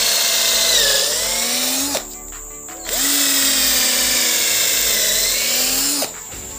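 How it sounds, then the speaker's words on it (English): A power drill bores into an agarwood tree trunk in two long, loud, steady runs, each ending in a brief pause when the motor stops. "Next, I will add a drill in the seam."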